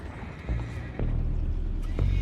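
Horses in Red Dead Redemption 2 neigh, and hooves clop under a low, steady rumble of movement at moderate volume.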